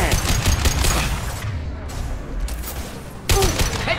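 Gunfire from the video game Mass Effect, a dense fusillade of shots on the planet Illium that pauses briefly and then resumes loudly, with no talk over it.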